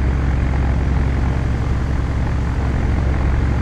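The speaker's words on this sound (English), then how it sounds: "The DC-3 is a more difficult plane to taxi." A Douglas DC-3 propeller airliner taxis in Flight Simulator X, its twin piston engines giving a loud, steady, throbbing drone with no change in pitch and no voices.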